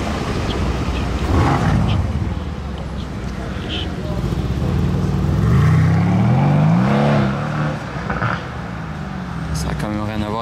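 Two Mercedes C63 AMG cars roar past as they accelerate hard on a straight, the engine noise rising and fading at a moderate distance while a voice talks over it.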